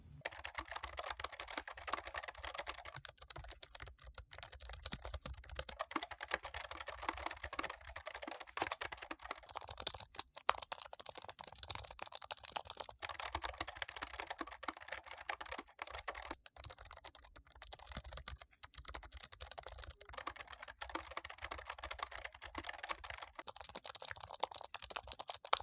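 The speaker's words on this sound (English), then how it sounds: "sound that the MX Keys Mini has" Someone types continuously on a Logitech MX Keys Mini keyboard, the soft key clicks fast and close, with brief pauses between bursts.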